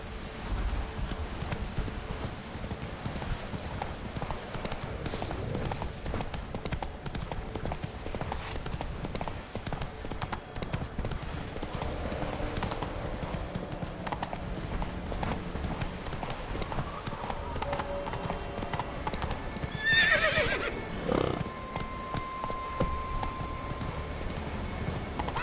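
Roach, a horse in The Witcher 3, gallops with loud rapid clip-clop hoofbeats throughout, a brief whinny rising near the end, over game ambience while a voice speaks briefly.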